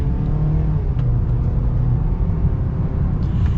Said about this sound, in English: we're gonna get an acceleration with the Maverick